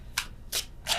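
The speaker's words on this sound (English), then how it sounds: "I was just moving the cards." Tarot cards being moved and shuffled by hand, three quick soft swishing bursts spaced evenly, close and fairly quiet with no talking.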